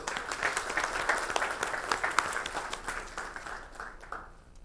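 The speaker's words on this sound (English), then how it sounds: "Let's have a big round of applause for this new release." An audience at a SolidWorks new-release presentation breaks into applause, a burst of many hands clapping together that holds steady for several seconds before dying away at the end.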